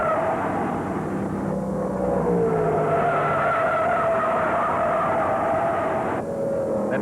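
A Ford stock car spins out on a slick fourth turn during a 1971 NASCAR Late Model Sportsman 250 at Ontario Motor Speedway. Loud, continuous engine roar shifts and slides in pitch over rushing track noise, with no voices.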